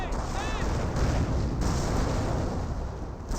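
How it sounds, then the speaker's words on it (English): An artillery barrage in Company of Heroes, a World War II strategy game, heard as a dense, continuous roar of distant shell bursts and gunfire across the whole stretch, with rumbling low booms throughout. "trying to get a barrage in this one here."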